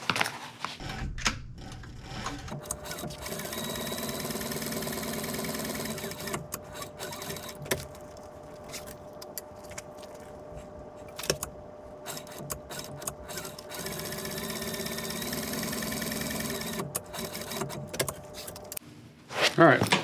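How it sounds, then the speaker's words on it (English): Leather gusset for a rope bag being stitched on a sewing machine, a steady mechanical whir running for long stretches with brief pauses, close and fairly loud, with someone talking faintly over it. "So now we'll sew that up on the machine"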